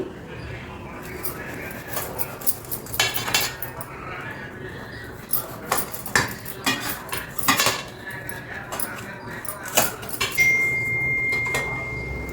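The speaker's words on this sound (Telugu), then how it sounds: "చూడండి మీకు చూపిస్తాను కట్ చేసి" Dibba rotti being cut in the pan with a metal utensil: a run of clinks, scrapes and knocks against the pan, some sharp and close, with faint voices in the background.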